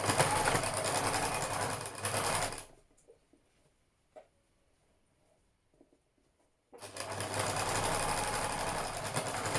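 Sewing machine stitching pieces of a fabric face mask, right sides together, in a steady close whir for a few seconds that stops, then after a quiet gap with light handling sounds it starts stitching again.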